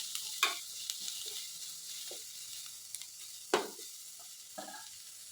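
Mixed vegetables stirred and fried in oil in a pan, made at home for onion kachori, give a soft continuous sizzle broken by several scraping stir strokes at irregular intervals.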